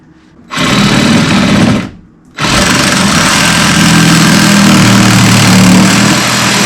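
A power saw cuts into plumbing pipe for a curb job: a loud, close, buzzing motor whine starts, stops briefly for under a second, then resumes and runs steadily to the end.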